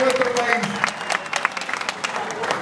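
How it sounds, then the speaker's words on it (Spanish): A crowd claps in a short burst of applause at a municipal cockfighting arena, moderately loud, with a voice carrying over it. "Un aplauso para todos los galleros que hoy nos visitan de otros lugares de nuestro país."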